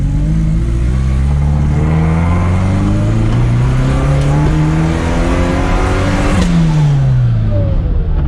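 A supercharged Chevette engine accelerates hard, its loud, continuous roar climbing steadily in pitch over several seconds, with a brief drop and renewed rise near the end as the throttle stays open.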